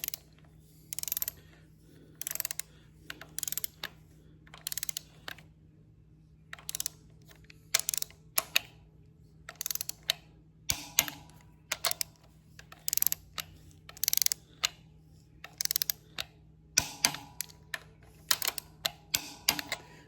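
Torque wrench tightening cylinder head bolts on a Case 830 tractor, a series of short sharp ratcheting clicks in irregular bursts against a faint steady hum, close and quiet, with no talking.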